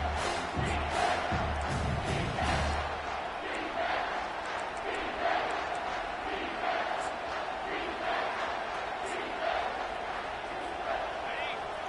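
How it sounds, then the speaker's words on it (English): At a college football game, the home crowd roars steadily on third down, a dense, sustained wall of cheering and shouting heard at a distance under a commentator's voice. "Here comes this home crowd as the defense tries to get off the field on third down"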